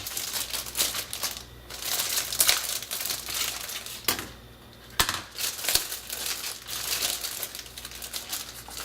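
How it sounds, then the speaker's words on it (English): A plastic bag holding blue and orange parts of a Tamiya Handy Drill model kit is torn open and handled, giving close, loud crinkling and rustling with a few sharp snaps. "with step 3, we open the bag with the blue and orange component parts"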